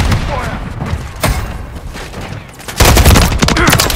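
Dense gunfire and explosions in Call of Duty MW3 on a sub base map, loud bursts and booms swelling near the end, with voices shouting over the battle.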